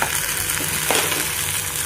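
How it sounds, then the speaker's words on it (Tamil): Onions with ginger garlic paste frying in a pan, a loud continuous close sizzle with brief stirring scrapes and no voices. "ஆட் பண்ணிவிட்டு நல்ல பச்சை வாசனை போகிற வரைக்கும் ஃப்ரை பண்ணுங்கள்."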